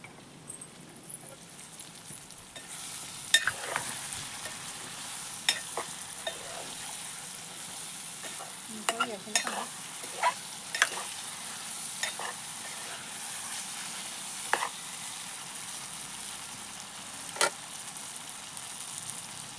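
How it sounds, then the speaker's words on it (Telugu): Chicken stirred and frying in a pan for a traditional Telugu chicken dish, a steady low sizzle under irregular scraping and clinking strokes of a spoon against the pan, with brief bursts of talk. "కలబెడతాను."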